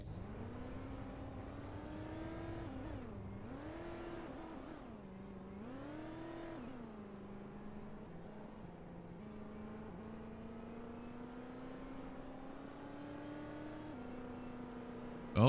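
Race car engine in the video game Speedway Ringer, a steady droning whine that rises and falls with revs, dipping twice early then holding an even pitch, loud and continuous with no talk.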